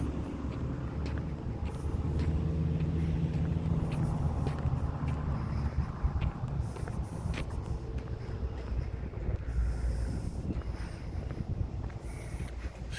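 A FedEx delivery truck passes nearby outdoors, giving a broad low rumble with wind buffeting that builds and then slowly fades.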